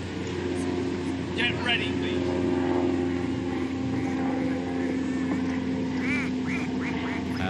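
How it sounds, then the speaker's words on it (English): A low, steady roar of an aeroplane passing overhead at the Henley rowing race, running continuously beneath the starter's call, with ducks quacking at moments. "An aeroplane thunders overhead."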